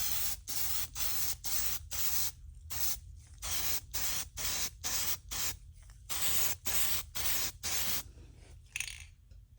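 An aerosol can sprays a light coating onto a workpiece before laser engraving with an X-Tool F1, in a long run of short hissing bursts with brief pauses, close and steady.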